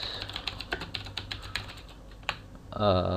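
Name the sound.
typing on computer keyboard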